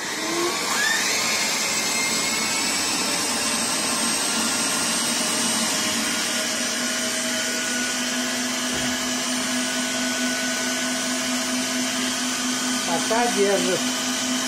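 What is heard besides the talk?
homemade robot vacuum cleaner suction unit switched on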